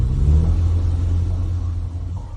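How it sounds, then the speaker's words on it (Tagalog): A bulletproof car pulls up, its engine giving a loud, steady low rumble that fades slightly toward the end, with no voices over it. "Kotse. Ito ay kotse."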